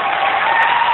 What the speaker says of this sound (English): Oh, listen to that cheering!